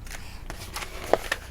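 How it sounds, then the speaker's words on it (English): Scissors cut paper for an Alice in Wonderland mini album, a brief close run of soft snipping and rustling that ends in one sharper cut. "So I'm going to cut this"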